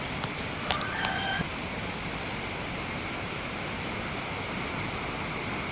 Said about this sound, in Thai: นี่ครับน้ำไหลแรงมากเลยครับ